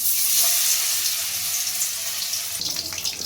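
Battered bata fish pieces dropped into hot white oil in a kadai, giving a continuous hissing sizzle that bursts louder near the end, close and steady with no talking.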